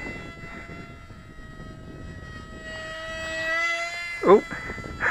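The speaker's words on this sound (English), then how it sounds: "It's a tight turn. I wanted to stay close because it's only a little aeroplane." A small model aeroplane's engine buzzes steadily as it flies tight turns nearby on a windy day, its whine rising in pitch, then a brief loud pass close by near the end.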